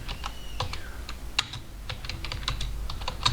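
Computer keyboard keys tapped in quick irregular bursts while CSS code is typed, close and fairly crisp over a low steady hum, with no voices.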